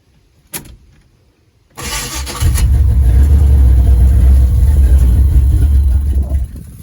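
1979 Chevrolet Camaro V8 firing up after a couple of clicks, then settling into a loud, rumbling, slightly uneven idle right up close.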